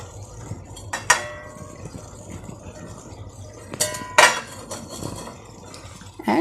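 Metal utensils clink and scrape against a pan as okra goes into a tomato masala, a few sharp clatters over a low kitchen background.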